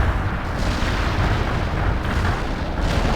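Artillery barrage explosions in the World in Conflict video game roll in as a dense, continuous wall of deep booms and rumbling blasts, loud and sustained across the whole moment with no talk.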